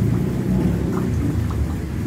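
Steady heavy rain pours down during a flood, a dense continuous wash with low rumbling underneath, loud and close, with no voices.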